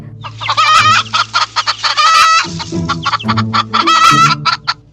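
A hen clucks repeatedly in quick, loud bursts, close by, with sharp rhythmic calls rising and falling.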